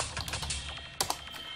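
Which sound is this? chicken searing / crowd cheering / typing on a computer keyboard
typing on a computer keyboard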